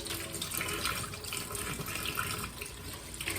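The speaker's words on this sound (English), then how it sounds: "we just want to wash our rosemary thoroughly, get any little bugs, dirt," Fresh rosemary sprigs being washed under a running kitchen tap, a steady hiss of water splashing over the leaves, fairly quiet and alone.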